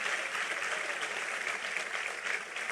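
Church congregation applauding together, a dense steady clapping that stays even and lively throughout, with no voices standing out.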